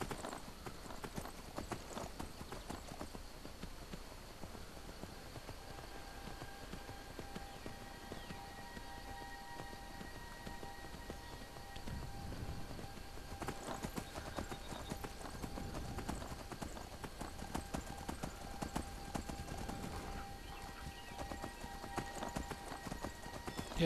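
Horse hooves clip-clop steadily at a riding pace across the roads of Skyrim, continuous rhythmic footfalls under faint game ambience and a brief whinny, with no talking.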